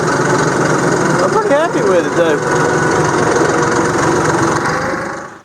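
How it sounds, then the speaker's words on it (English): Tractor engine running steadily while pulling a Tuffline land plane, a loud, close, even rumble that fades out at the end, with someone talking over it. "I'm gonna kind of pack it in with the tractor a little bit right quick."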